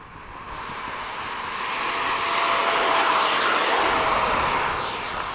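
Eflite 80mm F/A-18D radio-controlled jets flying together in formation give a steady, rising-and-falling whine of electric ducted fans, loud and continuous with a faint high tone, no talking.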